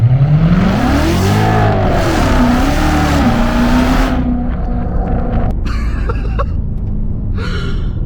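A 650-horsepower C7 Corvette Z06 engine revs hard and loud, its pitch climbing and wavering, then settles into a steady rumble with a few sharp blips.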